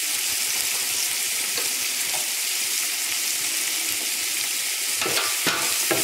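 Beans and carrots sautéing in a pan for rava kichadi give a loud, even sizzle with rapid clicking and scraping from stirring, a few sharper clatters near the end.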